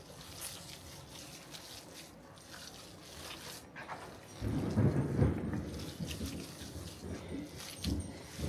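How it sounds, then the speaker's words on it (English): Thunderstorm with steady rain, a deep thunder rumble rolling in about midway and lingering over the continuing downpour, heard indoors. "We've got a pretty bad storm going on here right now."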